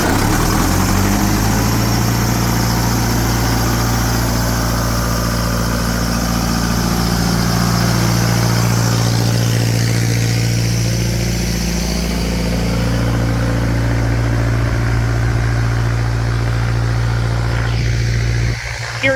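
Farm irrigation vehicle engine started and running with its PTO engaged, a steady loud low drone with a strong hum holding unbroken until it cuts out near the end.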